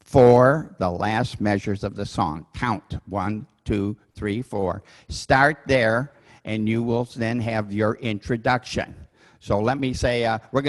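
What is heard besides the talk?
No everyday noises stand out.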